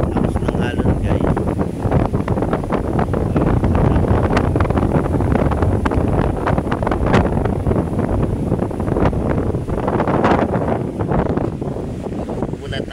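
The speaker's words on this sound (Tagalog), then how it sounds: "Lakas pa ng hangin." Strong wind buffeting the microphone alongside crashing waves at Manila Bay, a loud continuous roar and rumble with surges, with a voice speaking briefly underneath.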